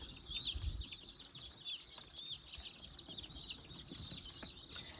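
Chickens and young chicks kept in a backyard coop, with high, repeated peeps and chirps over soft low clucking and rustling, fairly close and continuous.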